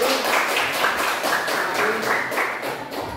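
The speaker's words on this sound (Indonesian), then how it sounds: "tepuk tangan untuk kelompok 1" Applause from a classroom group for the first team, a dense, steady patter of many hands clapping together at moderate volume, lasting throughout.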